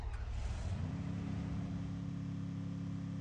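A car engine in the video game Free Fire starts up and settles into a steady, low, humming idle drone, quiet and alone with no talk.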